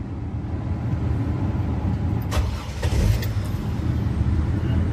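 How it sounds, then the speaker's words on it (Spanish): A car idles steadily close by, a constant low engine rumble with a short bump partway through, as the vehicle is switched on before checking its air conditioning. "Primeramente, tenemos que encender nuestro vehículo."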